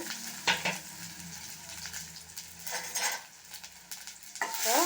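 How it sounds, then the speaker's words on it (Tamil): Mustard seeds and chopped onion fry in a hot kadai, crackling with a soft sizzle as a spoon stirs and scrapes the pan in a few distinct, close strokes. "கடுகு போட்டாச்சு ஆனியன் போட்டிருந்தா கடுகு பொரிஞ்சிச்சு"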